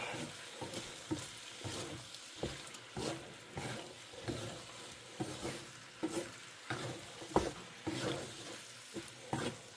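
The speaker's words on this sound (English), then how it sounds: "Go in with our snow peas. Let them stir around." Snow peas and shrimp sizzle steadily in a hot pan, with repeated scraping stirs and light clattering of a utensil at close range.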